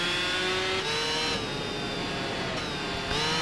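High-pitched whine of a Honda motorcycle engine revving in Tourist Trophy, pitch climbing and dropping across quick gear shifts, loud and close with no talk.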